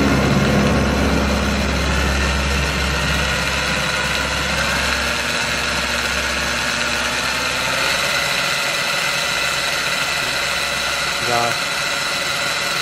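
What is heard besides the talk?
electric motor spinning differential of DIY electric jeep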